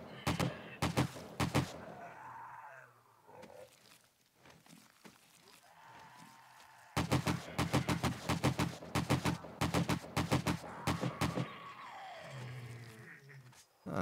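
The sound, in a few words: gunfire in the video game 7 Days to Die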